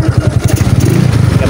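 A delivery rider's motorcycle idles close by after its cylinder was replaced, a loud, steady, rapid low putter with an even pulsing beat and faint rattling.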